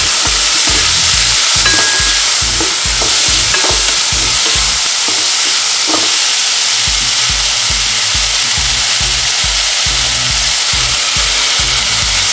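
Food frying in a pan is stirred with a loud, steady sizzle and rhythmic scraping strokes, close up and continuous, with a brief lull partway through.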